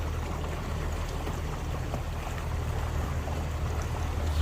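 Steady low engine drone and water wash from the Vigilant, an old boat cruising slowly along a river at 4 to 5 knots past houseboats, continuous and even throughout.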